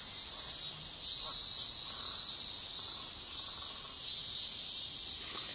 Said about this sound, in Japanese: セミがうるさい、ごめんなさい。